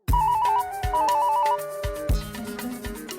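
A phone rings during an outgoing call in a household comedy scene, with a repeating electronic ringtone melody in short bursts over low thumps and background music, loud and close, with no talking.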